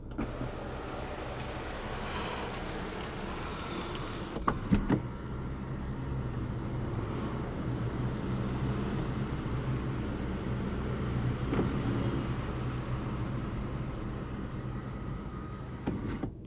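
An electric panoramic sunroof on a 2021 Chery Tiggo 8 1.5 Turbo runs with a steady, soft motor whir inside the cabin. A faint click marks a stop partway through before the quiet hum carries on.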